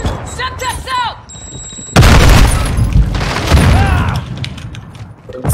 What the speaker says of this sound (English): Throwing a stun grenade! I just need a mag! Flash incoming!